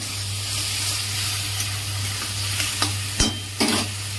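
Salt and turmeric being stirred into ash gourd in a pan, with a soft steady sizzle and a few sharp scraping clicks of the spoon near the end, alone and close.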